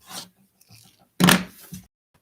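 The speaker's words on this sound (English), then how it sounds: "So I just have to trim off this one crooked side." Quilt fabric is trimmed along one crooked edge, heard as a couple of short, close scraping cuts separated by brief quiet.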